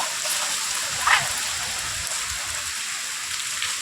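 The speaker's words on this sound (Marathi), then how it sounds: "तर आता दमदार पाऊस चालू आहे आता" Steady heavy monsoon rain in Maharashtra hissing and pattering on surfaces, a dense continuous wash of sound, with a brief sharper splash near the start.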